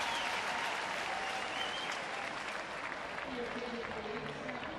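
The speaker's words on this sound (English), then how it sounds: "Nice round of applause for Cain." Steady, dense applause from a baseball stadium crowd for San Francisco Giants pitcher Matt Cain at a Reds game in Cincinnati, sustained and even, with a commentator's voice faintly underneath.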